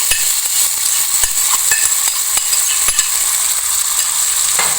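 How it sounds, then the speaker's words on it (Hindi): Mashed round gourd frying with onions in a pan gives a steady close hiss, with frequent sharp clicks and scrapes of a stirring spoon throughout. "हमने इसको प्याज के साथ थोड़ा सा भूनना है"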